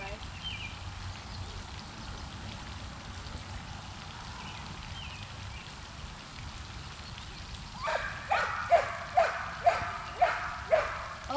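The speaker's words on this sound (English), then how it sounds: "Sorry about my dog barking." Dog barking in a rhythmic series of sharp barks, fairly close, starting partway through after a quiet stretch of steady outdoor hiss by a pond.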